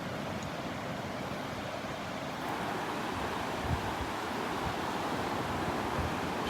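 Ocean waves roll and break on the beach at Delnor-Wiggins, a constant broad wash of surf with wind rushing across the microphone and no voices.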